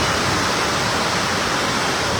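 Heavy rain pours steadily onto a Dhaka street, a dense, even hiss of water that fills the whole moment without a break, with no voices over it.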